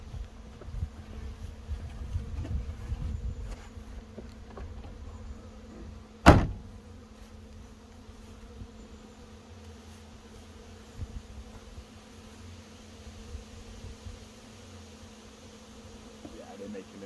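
A swarm of honey bees being brushed in and moving over, giving a steady low buzzing hum throughout with one sharp knock partway through and faint handling noises.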